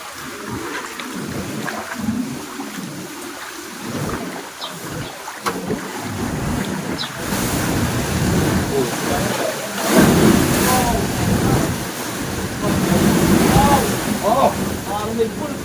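Strong gushing water and churning waves at a swollen, high lake near a baywalk fishing spot, a steady loud rush with wind-like surges building and peaking over fifteen seconds, with voices faintly mixed in.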